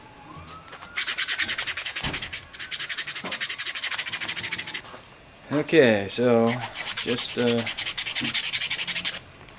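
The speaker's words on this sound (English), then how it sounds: "keep sanding." Strokes of 100 grit sandpaper rub across a wooden fingerboard in long, steady, loud passes near at hand, with a brief pause and a spoken remark partway through before the sanding resumes.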